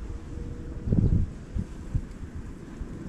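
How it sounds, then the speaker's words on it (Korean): Wind blows at a riverside spot while fishing for crucian carp on the Jinwicheon stream, a low, gusty buffeting against the microphone that swells into one stronger gust, then settles into uneven rumbles. "이제 슬슬 바람이 좀 많이 불기 시작하는 것 같습니다."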